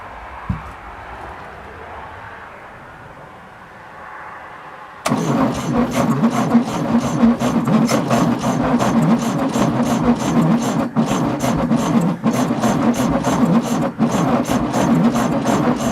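A 1966 VW Beetle engine cranks on the starter after a few quiet seconds, with a loud, steady, rhythmic churning that continues without catching.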